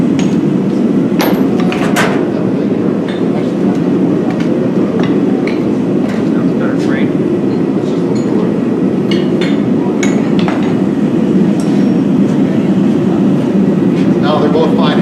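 A blacksmith forging a bevel, hammering hot steel on an anvil with hammer blows ringing steadily throughout over a constant loud background rumble, with people talking.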